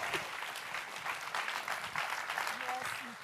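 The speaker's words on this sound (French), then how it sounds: "Tonnerre d'applaudissements pour Anicette!" An audience applauds a woman named Anicette, dense sustained clapping filling the room, with brief voices and a faint tonal sound emerging under it near the end.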